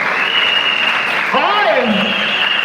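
Audience applause fills a pavilion at the opening ceremony of the 4th T20 Blind World Cup 2024 in Lahore, a steady dense wash of clapping that lasts throughout, with a voice speaking over it partway through.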